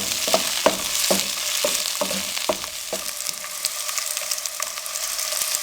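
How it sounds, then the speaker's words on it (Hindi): Finely chopped capsicum frying in a pan over a medium flame, a steady close sizzle with a run of spatula stirring knocks early on that settles into even crackling frying, no voices. "मीडियम फ्लेम पे शिमला मिर्च फ्राई हो चुकी है।"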